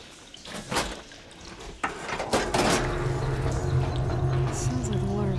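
Machinery in Horizon Forbidden West switches a water flow: clanks and bursts give way to a steady running-water wash with a low mechanical hum, loud and continuous, while a voice speaks over it.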